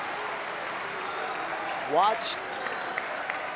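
Crowd applause at a table tennis match, a steady wash of clapping heard behind a commentator's voice, rising briefly with a short cheer in the middle.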